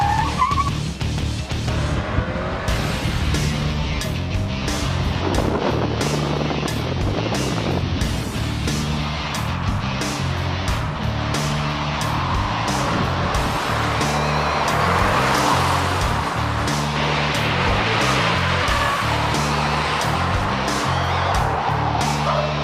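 A 2014 Ford Fiesta runs hard around a test lap, its engine droning and revving steadily for over twenty seconds while the tires squeal and skid through the corners, close and loud throughout.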